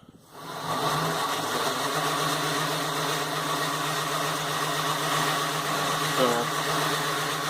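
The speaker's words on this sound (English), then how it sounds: "There's my grinder set to 90 degrees. Sound a bit rough at the moment." A bench grinder for grinding a golok knife blade, set up at 90 degrees and running a bit rough, hums steadily with a low, uneven mechanical drone throughout.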